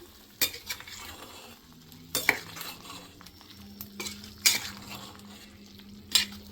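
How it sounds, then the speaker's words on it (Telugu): Chicken curry with colocasia fries in a pan and is stirred, a soft steady sizzle broken by several sharp scrapes and clanks of a spoon against the metal pan, close by with no voices. "చికెన్ మొత్తము వాటరు ఇంకే వరకు ఫ్రై అవ్వాలి."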